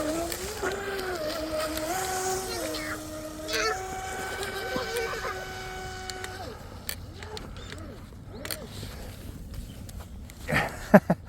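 A DeeRC 816 brushless RC boat runs on water, its motor whining with rising and falling pitch at close range under outdoor wind, then fading as people talk nearby.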